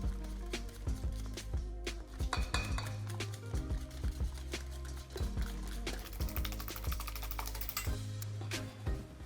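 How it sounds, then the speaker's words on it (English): Eggs being whisked in a bowl with salt, red pepper flakes and cumin, ahead of a large restaurant-style cauliflower fry for 25 people: rapid, steady clinking and tapping of the whisk against the bowl, continuous and close, with no talking. "I whisk the eggs thoroughly."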